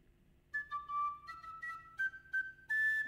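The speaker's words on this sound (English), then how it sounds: "We have got something called a penny whistle." A penny whistle plays a short bright melody of sustained notes and quick changes, alone and clear at close range.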